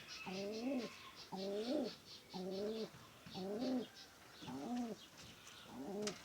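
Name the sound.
pigeons cooing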